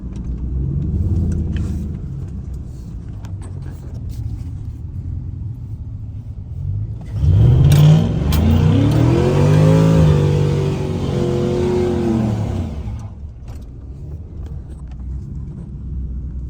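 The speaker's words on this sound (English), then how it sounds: "the truck is running and driving great" A truck engine idling with a deep rumble, then revving up loudly for several seconds before dropping back to a low idle.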